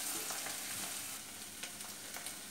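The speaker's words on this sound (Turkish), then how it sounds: "Toplamda 5-6 dakika kadar sarımsaklı soğanımı kavurdum." Garlic and onions sautéing in a pan for fresh green bean stew, a steady close sizzle with a few soft stirring scrapes and no voices.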